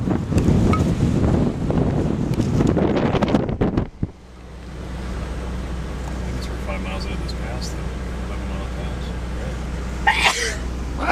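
A single sharp sneeze from someone riding in a support vehicle during the Furnace Creek 508 ultra-distance bike race. It comes near the end over a steady engine hum, after a stretch of loud wind buffeting.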